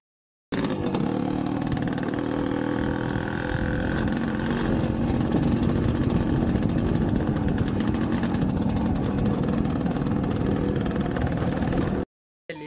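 A motorcycle engine idles in a village farmyard with a steady, close, low chugging rumble that runs unbroken for about eleven seconds before cutting off abruptly, with no talking.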